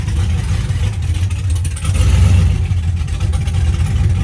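A car engine runs close by at a steady idle, its low rumble swelling briefly midway as if lightly revved, then settling back.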